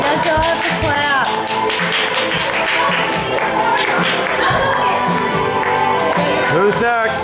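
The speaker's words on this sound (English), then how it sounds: "You guys all have to clap." A group at a surprise birthday party claps along to a beat, steady rhythmic taps under music and lively voices, loud and close throughout.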